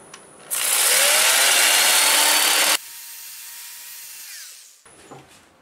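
A 2-inch sanding pad on a power drill whirs loudly against a turned wooden lidded box on a lathe for about two seconds. A quieter hum of the spinning lathe follows and fades to near silence.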